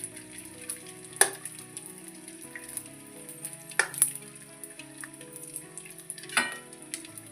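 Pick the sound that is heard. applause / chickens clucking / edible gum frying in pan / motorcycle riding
edible gum frying in pan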